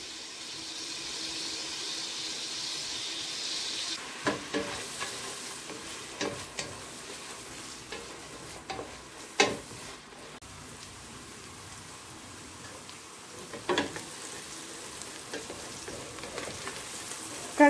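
Chopped onion fries in butter in a pot for a Turkish green lentil soup, giving a soft, constant sizzle beneath occasional sharp clicks and scrapes of stirring, with no one speaking.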